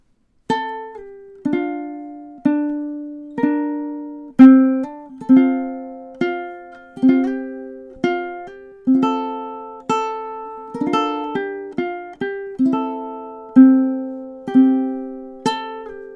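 Ukulele plays the opening four bars of The Parting Glass, a Celtic melody, as a flowing line of plucked single notes with ringing decays, steady and intimate, solo without talking.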